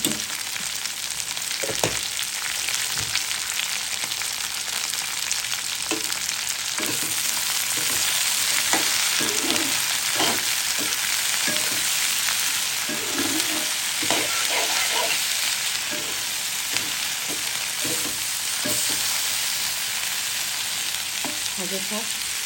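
Okra sizzling steadily in a pan with oil, a bright continuous frying hiss close up, punctuated throughout by scraping and clinking as a utensil stirs the pieces around.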